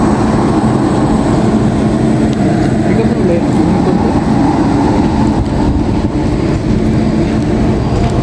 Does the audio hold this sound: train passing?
yes